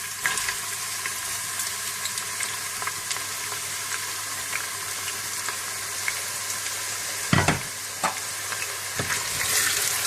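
Onions frying in desi ghee for nihari, a steady close sizzle with occasional stirring scrapes and one louder clatter, continuous throughout with no talk.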